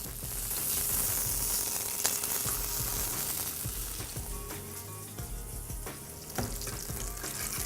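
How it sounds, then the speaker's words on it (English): Fish searing in a hot oiled pan for a tuna salad, giving a steady, fairly loud sizzle with a few scraping and clattering knocks as the pieces are turned, and no talk over it. "So in a hot pan, just put the fish. Turn it around and sear the other side."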